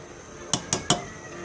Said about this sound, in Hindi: अब हम चम्मच को बिल्कुल आहिस्ता हिलाना है